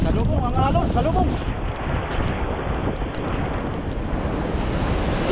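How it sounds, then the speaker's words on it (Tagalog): Storm waves surging and colliding along the shore at Dinahican, Infanta, Quezon, during tropical storm Uwan, a heavy continuous wash of surf under loud wind buffeting the microphone. "Salubong ang alon, salubong."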